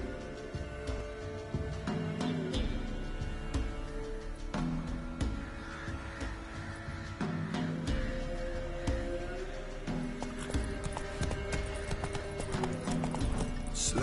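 Roach, the horse in The Witcher 3, trots along with rhythmic clip-clopping hooves, an even steady beat close by over a soft game backdrop.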